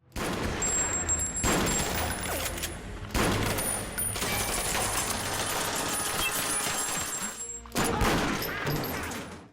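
Shotgun gunfire in an action film about a former special forces fighter against mafia thugs comes as dense bursts of shots separated by short pauses, loud and clipped, with no talking.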